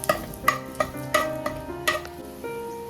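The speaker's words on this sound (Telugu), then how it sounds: "ఆయిల్ వేయించిన తర్వాత బిర్యానీ ఎసెన్షియల్స్ మొత్తం వేసేసుకుంటున్నాను." Whole biryani spices frying in hot oil inside a pressure cooker, with a ladle stirring and scraping in a series of sharp, close strikes and a faint sizzle running underneath.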